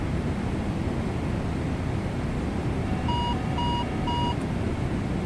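A Boeing 777 autopilot disconnect wailer sounds in Microsoft Flight Simulator as a short run of three repeating electronic tones over a constant cockpit background hum, partway through the stretch.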